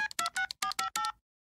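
A touch-tone telephone dials a prank call in a Family Guy cartoon scene: seven short, crisp keypad beeps follow in quick succession, each clear and close, with no talking.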